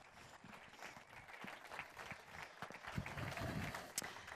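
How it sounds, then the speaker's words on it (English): A faint, distant audience claps steadily at the Toyota Gazoo Racing WRC 2017 team presentation as sporting director Jarmo Lehtinen comes onto the stage, with the applause swelling slightly toward the end. "Round of applause for Jarmo"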